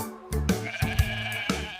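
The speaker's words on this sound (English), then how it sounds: "The sheep says, "Baa Baa."" A sheep bleating in several short, wavering calls, loud and close, with brief gaps between them and no talk.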